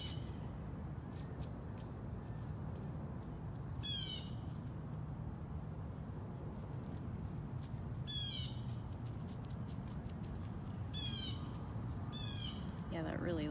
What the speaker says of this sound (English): that really loud noise is definitely a bird